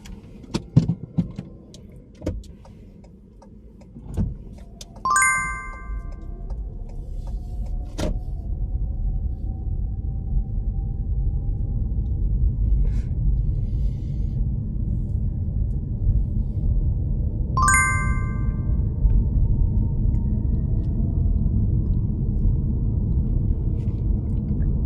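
A car sets off on a UK practical driving mock test: a few door and cabin clunks, two short chime alerts, then the engine pulls away and settles into a steady low road rumble.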